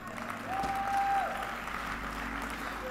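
A church congregation keeps clapping steadily at a Good Friday service, a broad, even wash of hands from a roomful of people heard at some distance, with no clear speech.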